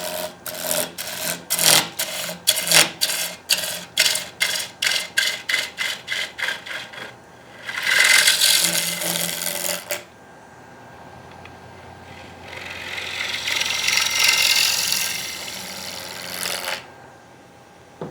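Wood lathe turning a quartersawn square plate with a gouge, a fast rhythmic series of scraping bursts as the square corners strike the tool, then two longer sustained shaving passes, loud and close with no talk.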